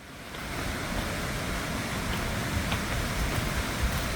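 A rain-swollen stream rushing loudly through a valley on a trekking trail, a dense steady roar of flowing water, close and unbroken, with no voices.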